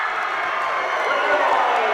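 A crowd in a gym roars and cheers after a dunk at a high school basketball regional tournament, a dense and sustained wash of voices under an announcer's talk.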